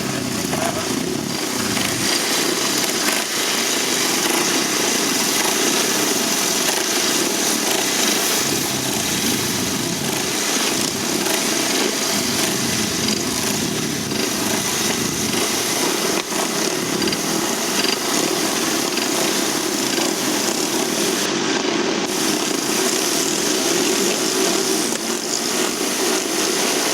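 Grasstrack motorcycles at a British championship meeting race with a continuous loud engine drone that rises and falls as the bikes circle, along with faint crowd noise.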